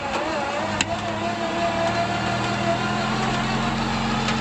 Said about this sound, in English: put it in gear, winch in and come forward a hair